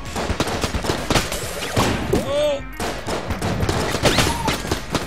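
Dense, rapid gunfire from the twin-stick shooter Enter the Gungeon, crackling in continuous bursts with explosions and whistling projectile effects, loud and up close throughout.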